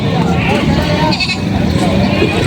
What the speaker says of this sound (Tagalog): na parami po mga kambing dito, pinaparada ngayon dito